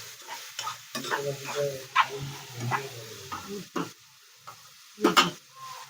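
Tomatoes and chillies being sautéed in a pan, with irregular stirring scrapes and knocks of a spoon over a low sizzle, several distinct louder strokes and quiet gaps between them.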